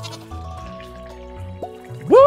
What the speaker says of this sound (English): That goat looks old enough now for me to milk it